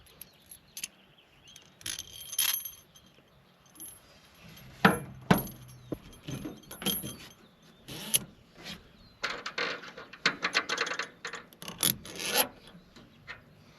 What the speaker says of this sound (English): Alright, put our new bolts in and see how it goes.